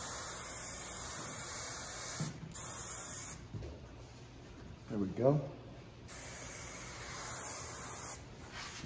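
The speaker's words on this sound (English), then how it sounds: "Just a little bit of our KMS working spray" A can of KMS Working Spray hair spray gives a few short hissing bursts close by at a salon styling chair, while a stylist talks briefly.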